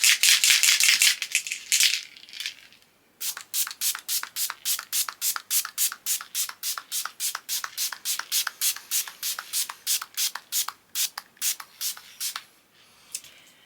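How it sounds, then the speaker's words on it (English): A makeup setting spray mists onto the face in a short, close hiss lasting about two seconds, followed by a long run of quick, evenly spaced whooshing strokes as it is fanned dry. "so I have sprayed setting spray and just fanned that down to dry"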